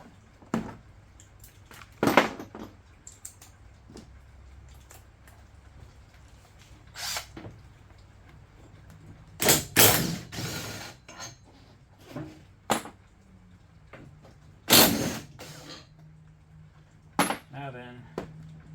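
Ratchet wrench loosening 12 mm bolts on a Yamaha Drive G29 golf cart: scattered sharp metallic clicks and clanks in separate bursts over low background noise, with short handling knocks between them.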